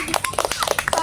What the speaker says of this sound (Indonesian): semoga kita tepuk tangan semuanya